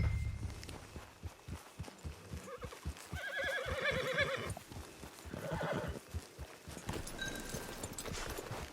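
Horse in Red Dead Redemption 2 lets out a loud whinny amid a steady clip-clop of hooves on ground, close and rhythmic, with a second shorter neigh later.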